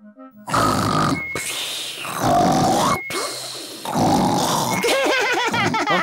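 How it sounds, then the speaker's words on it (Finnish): A cartoon pig snores loudly after a meal, repeated long rasping snorts and grunting breaths with short gaps, ending in wobbling comic snore tones, no speech. "Isä kertoi, että nukahdat ruoan jälkeen ja kuorsaat kovaa tällä"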